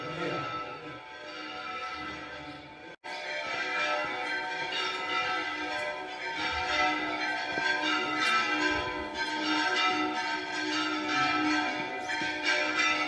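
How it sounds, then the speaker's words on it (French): Bells from several church towers in the small Spanish town of Écija ring together at once, a dense overlapping peal heard from a distance in the open air, continuous throughout with no talking. "il y a plusieurs clochers et puis toutes les cloches se mettent à sonner ensemble"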